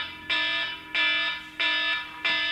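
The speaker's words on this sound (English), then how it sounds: "That is my reminder to take some medicine" A medicine-reminder alarm beeps four times in a steady repeating pattern, each bright electronic tone lasting about a third of a second with short gaps between, fairly loud and alone.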